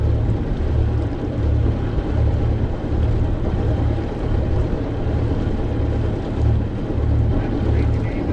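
Boat engine holding steady at 1,500 RPM ahead during an anchor test, a continuous low droning rumble with wind and water noise layered over it, close and fairly loud throughout.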